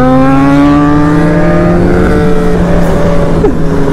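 A superbike engine revving hard as it accelerates through short gears, loud and close, with a strong rising harmonic whine that climbs and then drops sharply near the end as the rider shifts.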